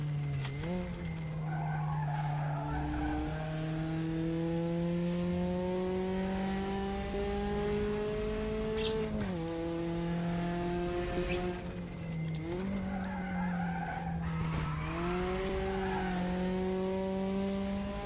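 A Porsche race car in the RaceRoom racing game drones along with a loud engine whose pitch climbs and drops through gear shifts, while tires squeal and skid through corners across the whole run.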